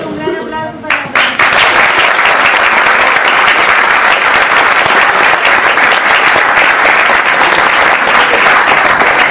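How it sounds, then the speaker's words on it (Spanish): Loud, dense applause from a large audience at a talk on transgenic crops in Chile and the world. It swells quickly after a brief voice and carries on steadily to the end. "permítanme pedir un gran aplauso para la"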